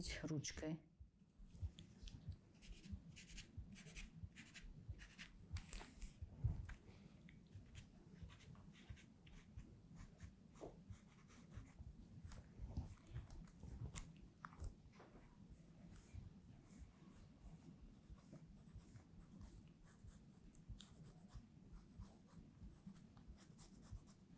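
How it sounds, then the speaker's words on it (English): A pencil scratches steadily across paper, outlining a skirt pattern for a warm wool winter skirt, with close, continuous strokes and small taps, faint and alone. "I'm going to outline it with a pencil for the beginning, and then it will be a pen."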